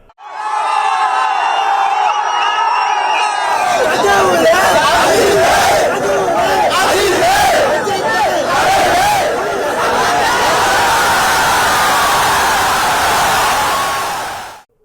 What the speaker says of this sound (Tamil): அஜித்தே கடவுளே என கோஷமிட்டு ஆரவாரம் செய்தனர்.